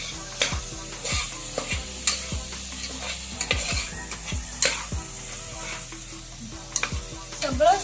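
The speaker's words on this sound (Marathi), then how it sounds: "सगळं साहित्य आता छान तळलं गेलेलं आहे" Tempering spices with soybean frying in oil for dal khichdi, a close crackling sizzle with repeated spatula stirs and pan knocks at an irregular pace.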